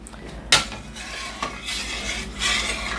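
A spoon stirs chocolate pudding in a pot, soft scraping strokes with a sharp clink near the start, faint and close in a quiet kitchen.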